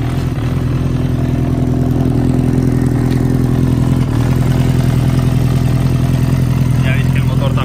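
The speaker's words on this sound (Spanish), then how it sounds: "Ya veis que el motor también suena perfecto y el escape más de lo mismo" A Honda CBX 400 converted to a scrambler, fitted with a sporty exhaust, idles loudly and steadily at close range after starting, its even rumble continuing throughout while someone talks over it.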